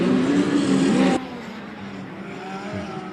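Speedcars at the Australian Speedcar Championship on a hot lap, a loud close engine roar that cuts off sharply after about a second, leaving a fainter distant engine drone with no talk.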